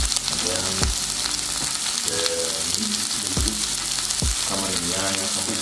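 Pork meat frying in a pan for a meal served with ugali, giving a loud, steady sizzle and crackle throughout, with occasional clatters and scrapes of stirring.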